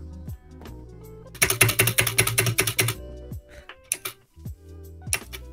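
A computer keyboard clatters close by in a burst of rapid clicking typing, then a few scattered keystrokes, over a background of game sounds and music notes.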